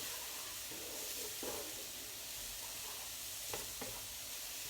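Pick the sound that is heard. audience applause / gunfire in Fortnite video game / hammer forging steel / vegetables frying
vegetables frying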